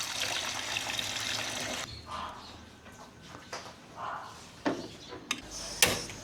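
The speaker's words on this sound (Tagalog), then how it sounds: "Lagyan natin ng tubig." Water is poured into a cooking pot with a steady rushing hiss for the first couple of seconds, then quieter splashes, trickles and small knocks of kitchen handling.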